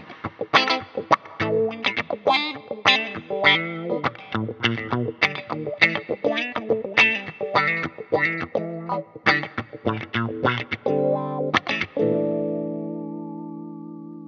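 Electric guitar played through a Vox V846-HW handwired wah pedal, a run of sharp, rhythmic picked notes and chord stabs with swept filtering, ending on one sustained ringing chord, loud and close with no voices.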